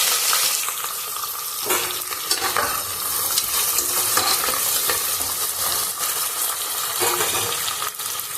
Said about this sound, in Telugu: ఇవి బాగా బ్రౌన్ కలర్లో వచ్చినంతసేపు ఫ్రై చేసుకోవాలి.